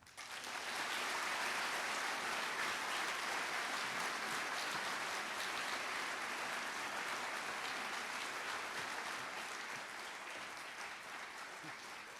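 Audience applause for speaker Peter Baker at The Salisbury Forum, a dense, sustained roar of clapping from a large crowd that swells quickly and holds steady, easing slightly toward the end.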